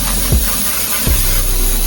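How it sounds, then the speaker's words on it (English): Brake cleaner sprayed from an aerosol can onto a motorbike near the airbox, a steady loud hiss that runs continuously, with two brief low thumps. "Now we've got the brake cleaner, I'm just going to spray it all over there"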